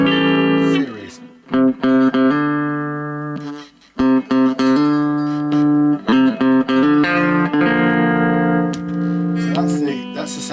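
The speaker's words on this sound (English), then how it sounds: "So that's the sound of the humbucker in series" Oakcaster electric guitar with its humbucker pickup switched to series, strummed chords and picked notes ringing with a thick, slightly driven tone, loud and close, with brief pauses between phrases.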